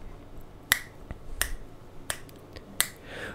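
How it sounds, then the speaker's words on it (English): Four crisp finger snaps ring out alone at a slow, even pace, each sharp and close, with quiet room tone between them. "So I'm going to just snap my fingers for a little bit"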